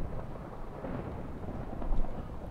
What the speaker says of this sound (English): It's quite a big storm.